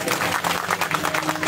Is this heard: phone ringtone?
no